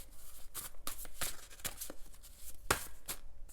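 Tarot cards are shuffled by hand in quick, irregular bursts of crisp riffling and snapping, close and fairly loud, with short pauses between flurries and no talking.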